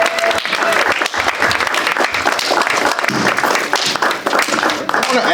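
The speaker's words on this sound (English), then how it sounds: "Can everyone give another round of applause?" An audience at a White Cane Awareness Day event gives a round of applause, loud dense clapping that continues for about five seconds.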